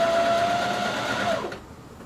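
A sewing machine stitches slippery bikini fabric, its motor whirring steadily and loud up close for about a second and a half before slowing and stopping.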